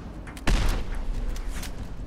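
Shotgun gunfire in Fallout 4 survival play, one sharp close blast followed by a scatter of fainter distant shots and crackling over a low rumbling background.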